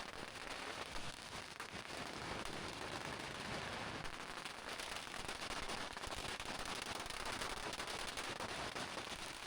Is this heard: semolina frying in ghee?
no